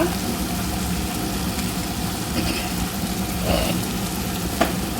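Asafoetida dropped into hot tempering oil for lemon rice, giving a steady, close sizzle and crackle throughout with a few small pops and faint background hum.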